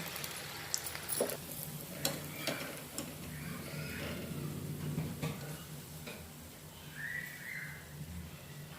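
Okra fritters dipped in gram flour batter fry in oil over a low flame, a steady soft sizzle with occasional ticks and light clinks, no voices.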